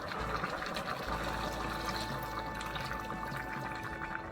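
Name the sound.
chicken broth being poured into a pot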